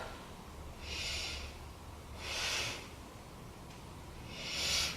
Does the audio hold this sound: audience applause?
no